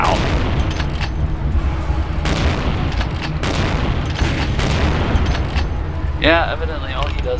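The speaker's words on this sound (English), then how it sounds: "evidently all he does is explode the barrels" Explosive barrels blowing up in a violent action video game, a string of heavy booms and blasts rolling on top of one another at close range, with a voice talking through the din.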